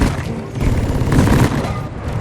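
Dense, continuous gunfire and explosive bursts from the video game Deep Rock Galactic, with a steady loud barrage of shots and booms running through the whole moment.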